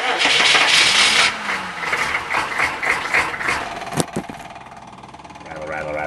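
A green pickup truck cranks over and its engine catches, then settles into a rough rattling idle; the start is loud and close, and a voice speaks over the cranking.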